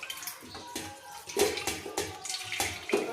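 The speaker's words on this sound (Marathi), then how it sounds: "आता हे एकदा दोनदा स्वच्छ पाण्याने पुन्हा धुवून घेऊ" Fresh paneer made from cream is rinsed with clean water in a kitchen, water splashing and pouring in repeated short bursts with sloshing between them, close and fairly quiet.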